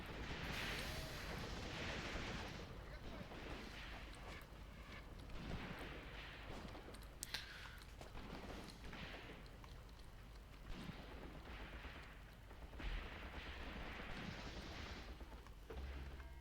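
Smoke mortar rounds fall in the Graviteam Tactics war game, heard as faint, muffled thumps and a low rumbling wash of battlefield noise.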